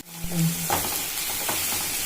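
Chopped onions hit hot oil and sizzle steadily, with a few clinks and scrapes of stirring over the continuous frying hiss.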